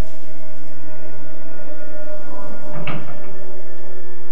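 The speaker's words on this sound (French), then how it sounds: "On a affaire à une porte, un portail." A door or gate creaks during a ghost hunt in a supposedly haunted house: a single short groaning squeak rises out of a steady low hum and dies away, with no talking.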